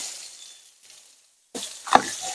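Onion paste with salt, turmeric and Kashmiri chilli frying and being stirred in a pan: a soft sizzle fades to a brief silence, then a louder burst of frying returns with a sharp scrape of the spoon.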